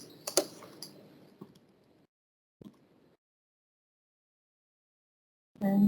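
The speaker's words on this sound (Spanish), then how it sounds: "puedo hacerlo también con el teclado, control C, control V" Keystrokes on a computer keyboard during copy and paste shortcuts: a few sharp clicks up front, then scattered isolated taps separated by near silence, ending in a louder burst of noise.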